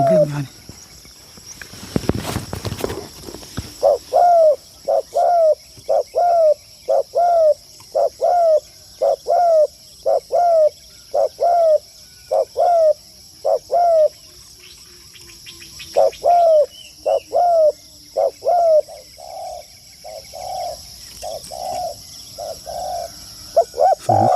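A spotted dove decoy coos in a steady run of short repeated calls, with a brief pause midway, over constant insect hiss in an outdoor bird-trapping setting.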